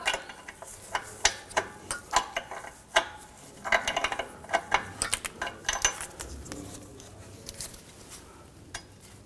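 Socket wrench clicking as an O2 sensor is loosened on a 2011-2019 Ford Explorer, a run of sharp close ratchet ticks in uneven bursts that thin out toward the end.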